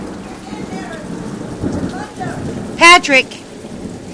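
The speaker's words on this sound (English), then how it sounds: "Oh, hailstone coming off the roof." Rain and hail fall steadily during a thunderstorm in PSJ, Florida, a constant rushing patter, while a person calls out briefly partway through.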